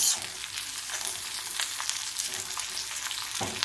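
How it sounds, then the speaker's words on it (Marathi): Slices of bitter gourd frying in hot oil in a pan, giving a loud, dense, continuous crackling sizzle heard up close, with a brief clink near the end and no talking. "दोन्ही बाजूने कारल्याचे काप जे आपले आहेत ते भाजले जातील तेलामध्ये किंवा परतले जातील"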